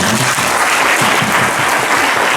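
A church congregation applauds together at a year-end worship service, dense steady clapping that fills the room and holds loud throughout without any speech.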